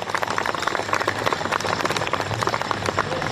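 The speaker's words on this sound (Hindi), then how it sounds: "जोरदार तालियां बजाए" An audience at a Hindi comic poetry gathering applauds loudly, a thick, sustained roar of many hands clapping at once with no break.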